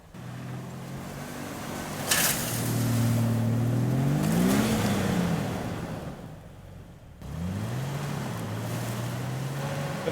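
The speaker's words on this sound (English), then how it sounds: "I kept the tires spinning, and all that does is make you sink" Jeep on a snowy trail with its engine revving hard and tires spinning, a loud sustained roar whose pitch climbs and falls, eases off briefly, then rises again with wind noise behind it.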